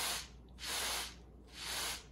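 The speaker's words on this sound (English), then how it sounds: "I'm going to take my little sprayer here and we got to do like a little test." A small hand spray bottle mists planted Brighamia rockii seeds in two long hissing bursts separated by a short pause, close and clear with no voices.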